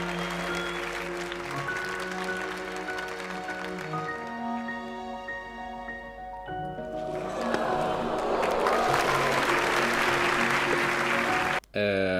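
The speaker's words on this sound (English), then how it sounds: "Why are people applauding for that?" Musical tones from a shadow magic act on Penn & Teller: Fool Us give way to a studio audience breaking into loud, sustained applause and clapping, with a brief cutoff near the end.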